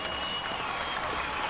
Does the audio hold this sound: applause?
yes